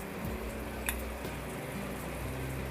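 Coriander powder and spices frying in oil with tomato gravy in a pan, a steady soft sizzle with faint stirring noises, close but quiet, and a low hum underneath.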